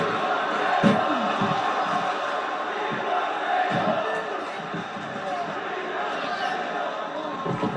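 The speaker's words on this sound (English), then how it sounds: "The crowd chanting, bring the tables." A wrestling crowd at a tables match chants for tables, a broad roar of many voices in an arena with rhythmic swells and a few sharp thuds and slams along the way.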